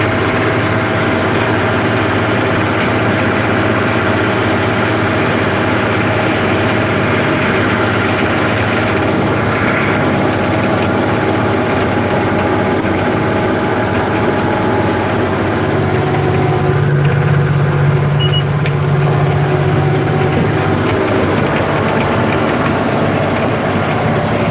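A Versatile 895 tractor engine idles with a steady, heavy low rumble that stays loud and constant for the whole stretch, with no talking.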